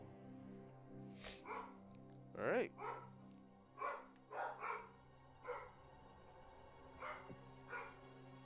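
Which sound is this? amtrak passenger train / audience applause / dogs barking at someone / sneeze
dogs barking at someone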